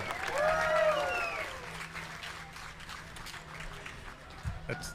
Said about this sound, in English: Round of applause for Yannick Noah.